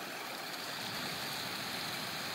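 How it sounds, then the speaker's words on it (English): A powerful waterfall pours into a garden pond with a wetland filter, giving a dense, steady rushing wash that stays loud and even throughout, with no voices. "because this waterfall is so powerful, you, you have some of the ripples coming in here"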